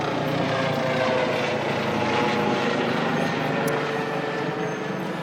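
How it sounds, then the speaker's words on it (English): A helicopter passes overhead in rural Iowa, its steady rotor and engine drone filling the background at moderate loudness for several seconds without talk. "I'm going to let that helicopter fly over."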